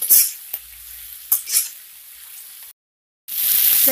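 Pizza paratha made from wheat flour cooks in an open, uncovered pan with soft sizzling and a few sharp bursts of spatter, broken by a brief silent gap before the sizzle returns loudly.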